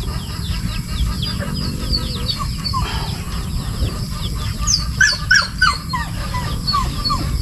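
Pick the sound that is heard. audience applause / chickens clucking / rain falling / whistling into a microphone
chickens clucking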